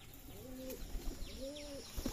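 Racing pigeons coo softly nearby in a farm loft, two drawn-out throaty coos with a short pause between them, over a quiet background.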